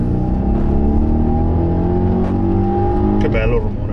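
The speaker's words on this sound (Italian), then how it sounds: "Prima di tutto un bellissimo rumore del motore e poi potenza" Volvo XC90 Twin Engine hybrid, a two-tonne SUV, accelerating at full throttle with a steady, rising engine drone heard from inside the cabin, loud and continuous, with someone talking over it.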